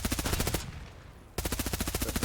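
Rapid automatic gunfire from a competitive arena shooter, sustained bursts of evenly spaced shots that break off briefly with a lull, then resume just as loud.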